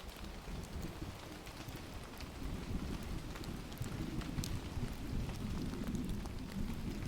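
Steady rain falls on an evening stormy scene, a soft continuous hiss with scattered drop ticks, faint and even throughout, no voices.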